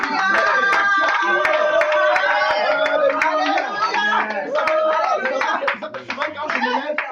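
Church congregation clapping steadily and acclaiming the Lord during a French-language prayer service, with dense, continuous sound of many voices singing and calling out alongside rhythmic hand claps.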